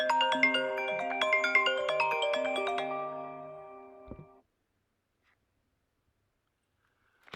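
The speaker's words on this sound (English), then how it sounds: "my phone just went off." A mobile phone ringtone plays a short repeating melodic tune for about four seconds outdoors on a street, then cuts off into near silence.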